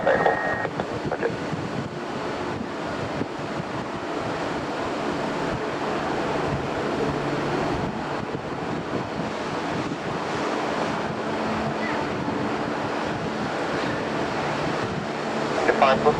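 Strong gusty wind at Birmingham Airport, blowing around 40 knots, buffets the microphone with a continuous loud roar and rumble for the whole stretch, with brief faint radio voices at the start.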